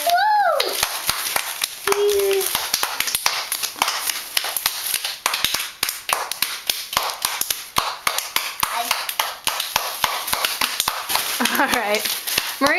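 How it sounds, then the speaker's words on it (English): Hands clap in quick, irregular bursts near a ten-month-old baby girl, sharp close taps running throughout under adults talking and cooing to her. "Show her how to clap, guys."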